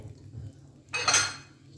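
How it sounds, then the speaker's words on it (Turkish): Food being stirred in the metal basket of a Karaca Air Pro Cook XL air fryer, a short burst of scraping and clinking lasting about half a second after a quiet hum. "Karıştıralım."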